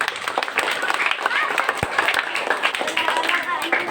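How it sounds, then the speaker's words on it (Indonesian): Children at an elementary school Ramadan boarding program clap their hands in a lively, uneven patter with a few sharp claps standing out, while voices chatter over the noise. "Mas tepuk tangan dulu dong"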